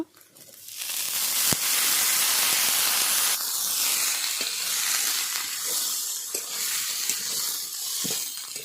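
Beetroot pieces tipped into hot oil set off a loud, steady sizzle and hiss that swells right away and holds, with a few scattered clicks and pops from stirring.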